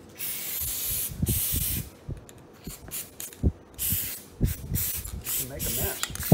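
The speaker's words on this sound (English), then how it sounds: "I try to hang it off the table when I spray the glue," Spray adhesive is sprayed onto a car door panel for a 1956 Chevy restoration, coming as several sharp hissing bursts of varying length, close and loud, with a voice between them.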